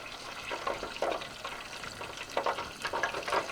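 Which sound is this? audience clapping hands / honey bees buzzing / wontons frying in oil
wontons frying in oil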